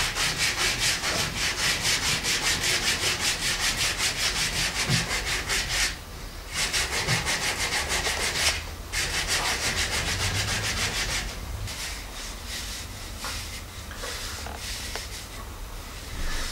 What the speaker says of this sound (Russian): После тщательной обработки наждачкой, когда у вас не останется ни одной раковины, винт будет завершен.